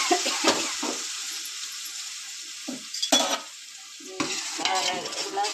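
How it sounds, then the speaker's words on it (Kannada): Chili powder fries in hot oil for mutton sambar while a spoon stirs it, giving a low sizzle broken by several distinct scraping stirring strokes against the pan. "ಒಗ್ಗರಣೆಲೆಲ್ಲ ಸ್ವಲ್ಪ ಖಾರ ಅನ್ನೋದು ಚೆನ್ನಾಗಿ ಫ್ರೈ ಆಗಲಿ, ಹಸಿ ವಾಸನೆ ಎಲ್ಲ ಹೋಗಲಿ"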